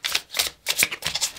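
Oracle cards are shuffled by hand up close, making four quick, crisp bursts of papery riffling and slapping with short pauses between them.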